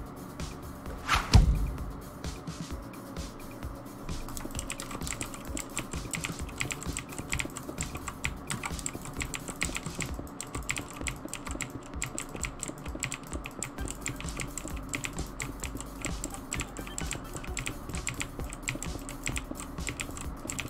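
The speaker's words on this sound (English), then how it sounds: "is the key clicking driving you crazy?" Computer keyboard keys clatter in rapid, continuous bursts of clicks during live Minecraft play, close and moderately loud, with one heavier thump near the start.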